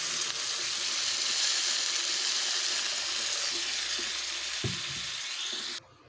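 Sizzling fried potato and cauliflower in a pan as water is poured in, a loud steady hiss and crackle that fades out abruptly near the end.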